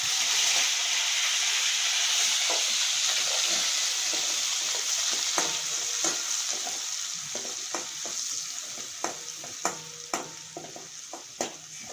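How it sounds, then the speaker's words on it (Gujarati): Chopped onions drop into hot oil with mustard and cumin seeds in a pan, giving a bright, loud sizzle that slowly settles while a spoon clinks and scrapes with growing frequency, and nobody speaks. "ડુંગળી નાખી દેવી."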